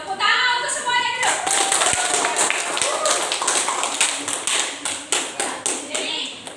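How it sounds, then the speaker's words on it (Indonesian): Students clapping for everyone in a classroom, starting with brief talk and then scattered claps turning into a rhythmic, unison pattern of sharp, evenly spaced claps near the end. "Tepuk tangan untuk semuanya dulu."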